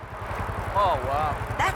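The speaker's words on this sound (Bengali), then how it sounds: "ওরে পিছনে হেলিকপ্টার" A helicopter's rapid rotor chop in the video game GTA 5 pulses steadily in the background while someone talks over it.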